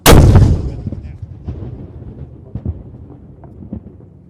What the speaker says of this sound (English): Number 1 gun, fire! Two, fire!